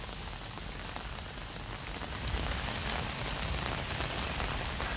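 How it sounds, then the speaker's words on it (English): Steady rain falls on a rainy day at an outdoor garden, a continuous broadband hiss of drops on surfaces that swells slightly partway through, with no voices. "Today we get the rainy day."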